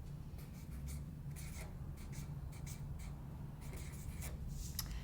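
A pen writing a word on paper, heard as soft, close scratching strokes in short bursts over a low, steady background hum.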